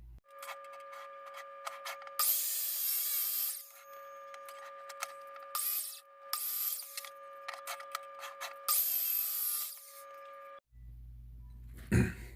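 A wooden sign has its edges routed and cleaned up, with a steady high-pitched router whine running in several bursts of a second or two, pausing between passes, then cutting off near the end followed by a brief low thump.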